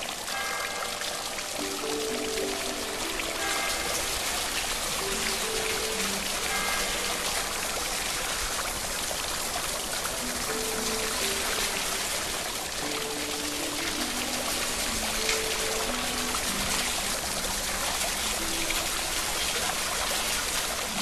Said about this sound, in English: a curtain of falling water